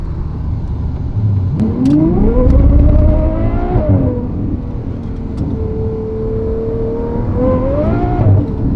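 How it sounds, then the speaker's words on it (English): Straight-piped Ferrari 812 GTS V12 accelerating hard, with loud rising engine sweeps through the gears, a brief drop around a shift, then a steady cruise before revving up again, close and continuous with no talk. "Straight pipe 812 GTS"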